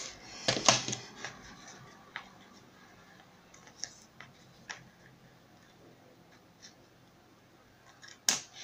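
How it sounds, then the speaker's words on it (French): Scissors cutting off the ends of paper in a craft project: a few quick snips at the start and end with scattered small clicks and taps between, close and fairly quiet. "On coupe les extrémités."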